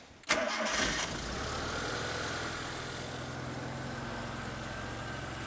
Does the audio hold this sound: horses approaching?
no